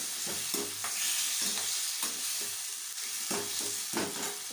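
Chopped tomatoes frying on high heat in a pan for a sour fish curry sizzle with a steady close hiss, broken by regular scraping stirs of a spoon against the pan.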